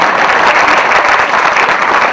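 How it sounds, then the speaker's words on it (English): Audience at an Art of Living introductory talk clapping together on cue, a loud dense burst of applause filling the whole stretch without voices. "Clap, clap, clap, stop."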